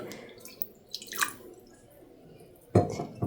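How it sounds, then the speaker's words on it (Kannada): Water splashing and trickling into a metal vessel holding silver utensils, with a few clinks and a louder pour near the end. "ಪಾತ್ರೆ ಮುಳುಗೋಷ್ಟು ನೀರು ಹಾಕ್ಕೊಳ್ಳಿ"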